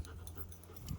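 A dog pants quickly and steadily, close by, during a training session, a soft rapid breathy rhythm over low background noise.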